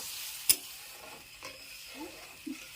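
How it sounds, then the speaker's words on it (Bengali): A spoon stirs potato and poppy seed paste curry in a pan, with one sharp metallic tap, then faint scrapes and soft wet shuffles over a quiet, low simmer and no speech. "ভালো করে একটু নেড়ে নেব।"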